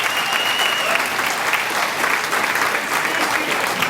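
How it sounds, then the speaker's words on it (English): Audience applause for Monique at a veterans-related gathering, a steady dense wash of many hands clapping, loud and sustained throughout with no pauses. "So give a big round of applause for Monique"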